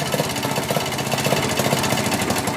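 A loud, close motorcycle engine runs on a one-of-a-kind hybrid Victor bike, its rough, rhythmic chugging pulsing steadily at an idle-like pace with no pauses.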